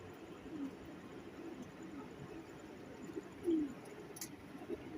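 A golden pigeon gives a faint low coo, one short call standing out midway against quiet room noise.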